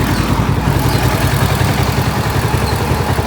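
A 2022 Kawasaki Z650RS motorcycle idles steadily while warming up, its low, even engine rumble close and continuous throughout with no pauses.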